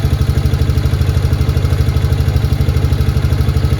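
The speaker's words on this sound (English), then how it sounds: "Idle's really nice." A 1998-2001 Arctic Cat 300 ATV with a Mikuni carburetor idles close by in a steady, even low chug with fast regular pulses and no talk.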